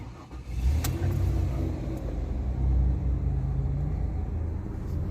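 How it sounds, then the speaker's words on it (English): A Ford Escape engine runs at a steady idle after starting, a close, even low rumble with slight swells and no voices. "Now we're going to turn the car on."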